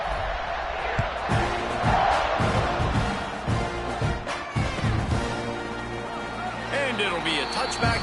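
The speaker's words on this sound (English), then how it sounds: "this crowd now ready to get behind them" A stadium crowd at an American football game roars and cheers steadily around kickoff, loud and dense, with a commentator talking over it throughout.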